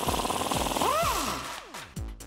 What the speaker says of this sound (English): So we can take a 19mm wrench and a 19mm socket.